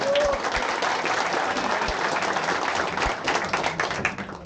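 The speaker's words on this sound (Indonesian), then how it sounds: "Boleh dong kasih tepuk tangan." An audience at an Indonesian event applauds the youngest participant, a 17-year-old in grade 12, with dense, sustained clapping throughout and a brief voice heard near the start.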